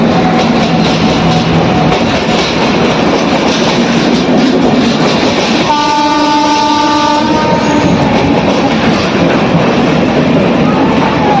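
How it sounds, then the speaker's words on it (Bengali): A Vande Bharat Express train entering a station platform, loud continuous rumble and rattle close by, with a sustained horn blast sounding midway. "তো ট্রেন আমাদের প্ল্যাটফর্মে ঢুকছে।"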